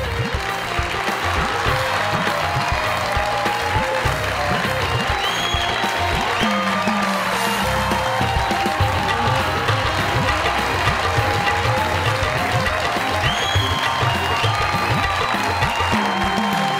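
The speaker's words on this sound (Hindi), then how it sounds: "जोरदार तालियों में" A studio audience on a comedy talk show applauds steadily and loudly, a dense wash of clapping that carries on without pause, with a little voice and music underneath.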